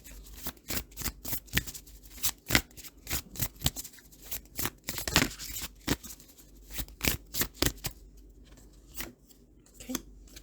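A tarot card deck is shuffled close by in a steady run of crisp riffling and flapping bursts, with brief pauses between rounds and no talk over it.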